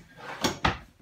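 A storage drawer in a 2021 Clipper 262BHS travel trailer is opened or shut, giving two quick close knocks about a fifth of a second apart, fairly loud against a quiet interior.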